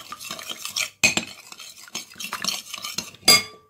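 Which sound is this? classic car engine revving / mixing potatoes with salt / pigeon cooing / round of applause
mixing potatoes with salt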